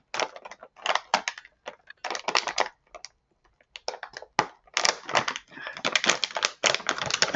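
A bag of Hello Kitty barbecue chips being pulled and squeezed while someone struggles to open it, bursts of loud crinkling plastic crackle separated by short pauses, close up.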